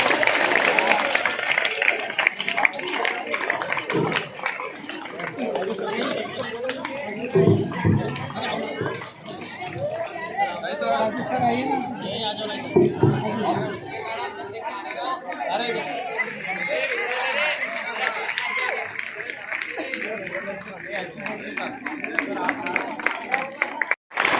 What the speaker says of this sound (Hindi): इनके लिए आप जोरदार तालियां बजाइए